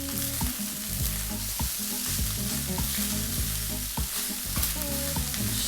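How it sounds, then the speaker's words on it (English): Soy sauce chicken fried rice with ginger and cabbage fries in a hot pan, giving a loud, steady sizzle with repeated scraping and stirring strokes from close by. "That's your rice frying, that's where you need it."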